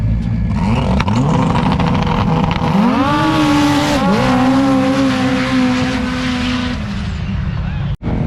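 A loud four-seater race car accelerates past on a racetrack cut into a cornfield, its engine note climbing, dipping and climbing again close by, fading toward the end, followed by a brief bump of handling noise.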